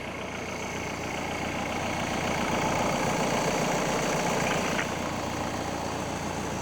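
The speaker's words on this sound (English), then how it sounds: "now I'm listening to the injector kind of opening and closing in the engine" A running engine idles steadily, a close mechanical drone with faint rapid ticking of fuel injectors opening and closing running through it.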